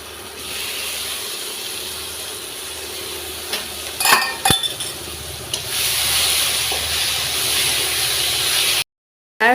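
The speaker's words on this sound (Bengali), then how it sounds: "এবার আমি টমেটো কুচিগুলো দিয়ে দেবো।" Chopped tomatoes go into a hot frying pan of chicken kosha masala with green chili paste, giving a steady close sizzle with a brief clatter and burst of spitting partway through, then sudden silence before a short return.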